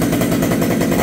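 A Husqvarna 572 HTSS chainsaw engine running steadily and loudly up close, its fast two-stroke firing a dense continuous buzz with a slightly rich, rough edge, no speech over it.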